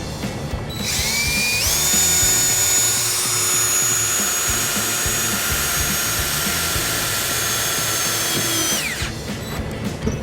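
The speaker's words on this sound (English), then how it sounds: "We'll take our electric drill and make our ground." A power drill whines up to speed drilling a ground hole on a 2016 Ford Escape for trailer wiring, runs steadily for several seconds, then winds down; loud and close, with no talking.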